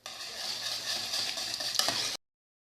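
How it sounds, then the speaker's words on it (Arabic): A spoon stirs lemon cream with melted butter, lemon juice and zest in a pot, giving a steady, close scraping and bubbling hiss that runs for about two seconds before stopping abruptly. "غادي نحرك الكريمه ديالي مزيان"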